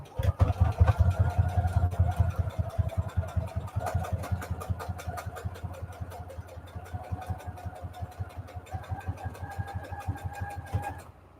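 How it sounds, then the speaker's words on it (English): Sewing machine stitching steadily around a soft fabric mini junk journal cover stiffened with Peltex 70, a close, even rapid needle rhythm running continuously with a low motor hum. "we're going to sew all the way around"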